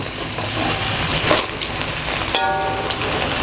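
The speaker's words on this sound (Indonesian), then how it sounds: "saya tumis dulu bawang putih sama bawang merah" Garlic and shallots sautéing in a hot pan give a steady, close sizzle and crackle of frying, with a few brief stirring scrapes and clinks, no talking.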